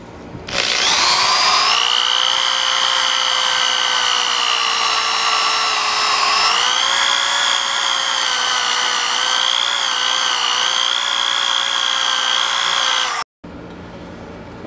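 A rusty hatchet head is worked on 400-grit abrasive, giving a loud, steady, high whine with shifting tonal bands that runs without a break for about thirteen seconds, then cuts off abruptly.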